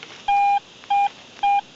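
A metal detector sounds three loud, clean, steady high beeps, each lasting a fraction of a second, with short gaps between them, close and alone without talk, at an old WW2 air force base site.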